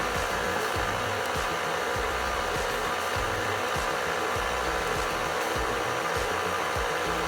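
A stand mixer beats cheesecake batter in a steady, continuous motor whir with a faint rhythmic thump of the beater turning in the bowl, close and constant throughout with no talking.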